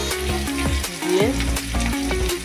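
Chili chicken fried rice stir-fried in a pan, with a loud steady sizzle and repeated scraping strokes of a spatula pushing the rice around, no talking.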